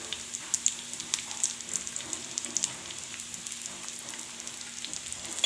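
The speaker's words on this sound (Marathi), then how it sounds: "अजून थोडं आपण परतून घेऊ कांद्याला त्याच्यात लसूण टाकून घेऊ" Onions and garlic sauté in a pan for misal, giving a constant crackling sizzle with light spattering pops throughout, close up and steady, with no talking.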